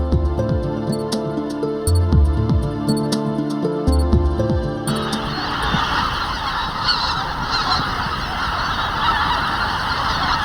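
Migratory waterbirds honk and call in overlapping bursts at the Janghang wetland in the Han River estuary in winter, loud and close at first, then thinning out over steady wind-like noise.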